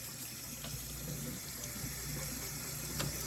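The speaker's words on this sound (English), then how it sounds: "I wash my rice under running water." Tap water runs steadily over rice being rinsed in a kitchen, a quiet, continuous hiss and splash with faint small clinks and no talking.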